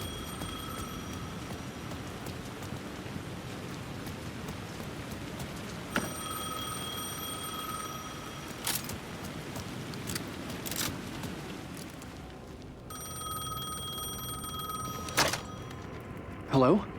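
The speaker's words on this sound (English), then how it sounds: "The phone was ringing again." A telephone rings in the video game Alan Wake 2, with a few bright, repeated rings sounding over a steady, murky ambient drone.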